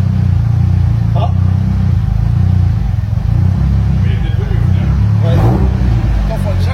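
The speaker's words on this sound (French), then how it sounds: "Là, t'arrives à bloquer les roues pendant que le moteur il tourne." A car engine runs hard and steady in first gear while the brakes lock the wheels, a loud, droning rumble held close throughout, with a voice talking over it.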